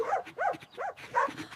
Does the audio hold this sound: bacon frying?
no